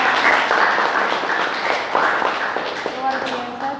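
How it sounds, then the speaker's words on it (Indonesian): Applause in a classroom during a lesson on ecosystems, a broad wash of clapping lasting several seconds with voices and chatter mixed in. "Beri aplaus."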